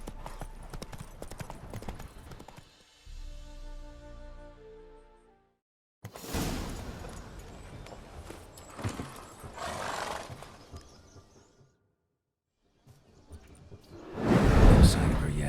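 A horse galloping in the video game Witcher 3, with rapid clip-clopping hooves, a whinny and whooshing effects, heard in several loud runs broken by short silent gaps and a softer ambient passage.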